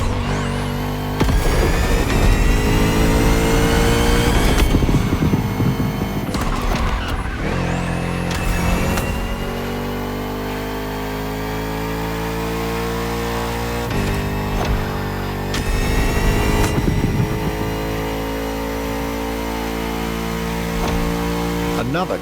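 A Bugatti Vision GT in the racing game The Crew Motorfest roars loudly, its engine pitch climbing and falling through repeated shifts, with tire squeals at points and a voice speaking over parts of the run.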